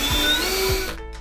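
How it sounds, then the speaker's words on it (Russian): A power screwdriver drives self-tapping screws into a wardrobe during assembly, giving a steady close whirring motor whine with a couple of low thuds, then winding down abruptly near the end. "Затем с помощью саморезов устанавливает крепление для штанги."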